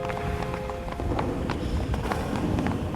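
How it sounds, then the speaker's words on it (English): Shoes struck to create footstep sound effects, a steady run of close, sharp taps with a clip-clop feel across the whole span, over a busy background. "I used my shoes to make the footstep sounds."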